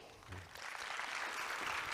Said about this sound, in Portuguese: Queria chamar com uma salva de palmas muito forte